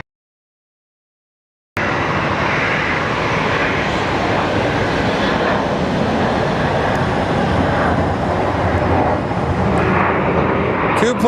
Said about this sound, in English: Two planes in a row landing on here.